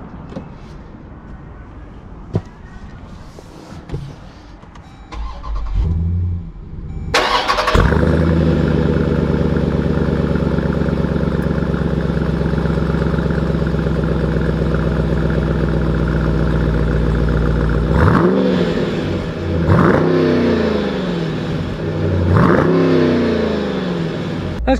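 A Dodge Durango SRT with only 1900 miles starts up after a few seconds of quiet handling sounds, settles into a loud, deep idle, then gives several sharp revs late on, all close and without talk.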